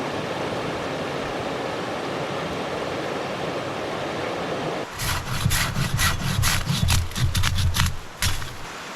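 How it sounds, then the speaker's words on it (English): A hand saw cuts through a fallen tree on a boreal portage trail in Saskatchewan, a steady run of close back-and-forth rasping strokes over a rushing background of wind or water, with no talk. "There are trees down, so I'm gonna go do a little cutting here first."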